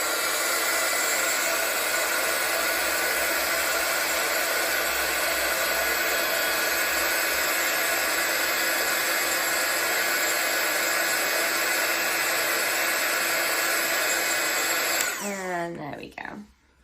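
A heat tool blows steadily over an embossed craft card on a mat, a loud continuous whirring hiss that runs unbroken for about fifteen seconds before cutting off with a brief falling whine at the end.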